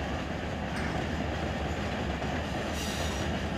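Container freight train of well cars rolling in Run 8 Train Simulator, a steady broadband rumble and hiss of wheels on rail with faint high squeal, continuous and moderately loud.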